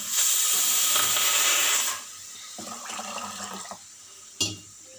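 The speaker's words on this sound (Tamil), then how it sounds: "தண்ணி ஆட் பண்ணிக்கலாம் தேவையான அளவுக்கு." Water gushes loudly into a cooking pot of rasam with turmeric for about two seconds, then gives way to quieter clinking and splashing sounds nearby.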